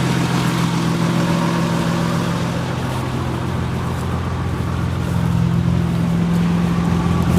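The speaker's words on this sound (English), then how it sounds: "can hear the engine still just purring away." A Nissan Pathfinder engine idles steadily nearby, a low, even rumble that holds constant throughout.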